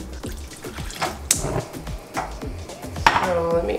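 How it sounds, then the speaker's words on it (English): Water splashes and clatters into a pot of vegan pea dal, with scattered pot and utensil knocks and a couple of sharper pouring bursts, close and moderately loud with no talking. "So let me add a little bit of water."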